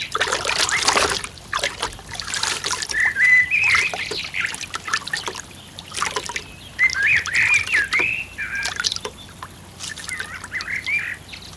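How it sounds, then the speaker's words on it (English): Water trickles and splashes in a nearby stream, heard as a continuous close babble with bird calls and quacking ducks chirping over it throughout. "they awoke to the sounds of splashing in the stream nearby"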